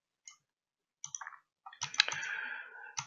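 Several crisp mouse clicks in a drawing tutorial, sparse single clicks early, then a denser cluster of clicks and rustling near the end, faint and close.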